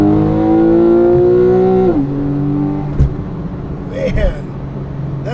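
Porsche 911 Carrera 4S engine pulling hard, a strong rising tone that climbs and then drops at a gear change before pulling again, heard from inside the car over road noise, with a faint voice toward the end.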